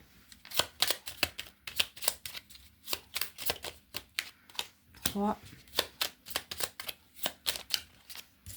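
Oracle cards shuffled and drawn for a reading, giving a rapid series of crisp riffling and slapping card sounds, fairly close, with a brief spoken voice in the middle.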